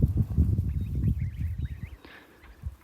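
Several geese honk and cackle close by in a loose, overlapping series, with a few higher calls joining near the end, in a garden.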